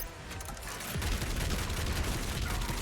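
Sustained full-auto gunfire from a weapon in the shooter game Doom Eternal, a dense, loud rattle of rapid shots with heavy low-end booms that thickens after the first second and runs unbroken to the end.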